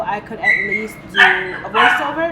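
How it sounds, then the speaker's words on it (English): A puppy barks and whines from inside a crate, in short yips and yelps under and between a person's speech, fairly close. "my puppy is barking"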